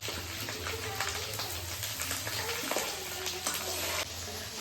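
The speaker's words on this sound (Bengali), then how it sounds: "লক্ষ্মী পুজোর খিচুড়ি রান্না হচ্ছে" Khichuri cooking in a pot for Lakshmi puja: a steady sizzle and bubbling hiss with soft stirring scrapes, heard close and continuous over a low background hum, with faint voices in the background.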